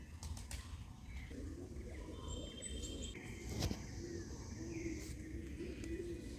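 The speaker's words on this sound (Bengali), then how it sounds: "কত রকম পাখি ডাকছে" Assorted birds calling faintly in a quiet forest near a Shiva temple, with short chirps and a few cooing notes scattered over a soft steady background.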